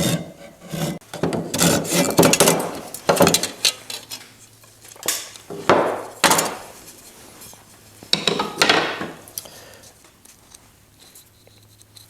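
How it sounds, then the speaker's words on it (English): A dovetail saw cutting through wood on a 50-year-old toddler rocking chair, in bursts of close, rasping back-and-forth strokes separated by short pauses, no speech. "And I'll saw this off with a dovetail saw."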